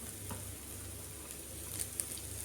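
Ginger and onion softening in a hot pan give off a soft, even sizzle, faint and steady throughout with a few small pops and no one speaking.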